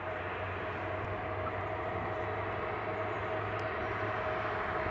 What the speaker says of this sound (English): Something starting up nearby. Can't work out what it is. British Airways, I'm thinking.